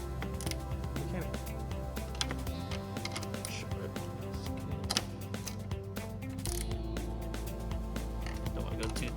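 Ratcheting wrench tightening the side mirror nuts on a 2009-2014 Acura TL, giving steady close clicking and mechanical rattling under a person talking throughout.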